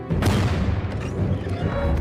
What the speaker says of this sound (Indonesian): satu demi satu tembakan mortir pun mulai diluncurkan